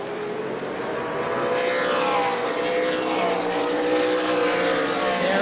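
Super late model race cars roar around New Smyrna Speedway during a Sunbelt Series race, a dense, sustained engine drone that swells as cars pass, heard from trackside without voices.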